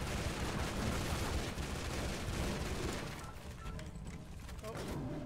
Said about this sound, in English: It sounded like I threw a grenade.